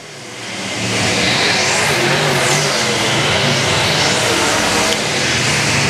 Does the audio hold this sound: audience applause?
no